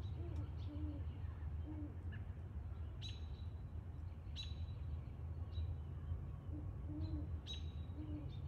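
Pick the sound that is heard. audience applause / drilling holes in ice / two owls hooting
two owls hooting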